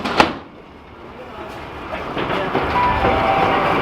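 A tourist railway train pulls out of Moorooduc station, with a sharp knock at the start and then a rising, rumbling roll of wheels and carriage noise close by.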